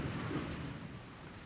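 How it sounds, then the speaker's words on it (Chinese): Heavy rain pouring down suddenly, a dense, steady broadband wash with no distinct drops, fairly loud and alone, with no talking. "怎么突然下大雨了呢？快避雨！"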